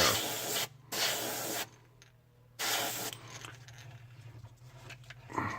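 An airbrush blows plain air while painting a shad crankbait, in three loud hissing bursts separated by gaps, then a quieter, uneven stretch of hiss.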